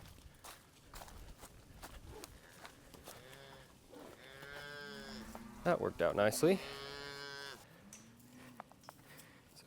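Several cattle mooing in a farm field, long low bellows close by and overlapping, with hooves shuffling and someone speaking briefly over them.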